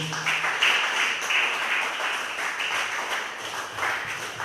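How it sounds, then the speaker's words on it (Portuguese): A church congregation applauds together in a steady, dense wash of clapping that holds throughout without a pause. "vamos aplaudir o nome do Senhor"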